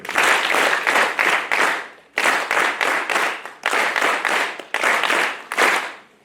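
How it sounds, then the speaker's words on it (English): An audience at a university career fair, Zetech University, claps for visiting guests: loud, dense applause in several bursts of roughly a second and a half each, with brief gaps in between and no talking. "Now, because you would clap for me, at least clap for the visitors."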